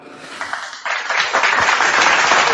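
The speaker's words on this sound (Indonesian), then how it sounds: "tepuk tangan dulu" Applause starts with a few scattered claps, then swells into loud, dense clapping from a crowd that keeps going.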